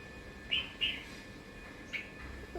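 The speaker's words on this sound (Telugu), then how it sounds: "నైవేద్యం తినే పిట్టలు వస్తాయి" Small birds come for a food offering on a cold morning, giving three short, thin chirps, the first two close together and the last a little later, faint against quiet outdoor air.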